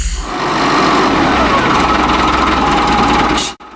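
A tractor engine runs at a sawmill with a loud, steady, buzzing drone close by. It holds evenly for several seconds and then cuts off abruptly.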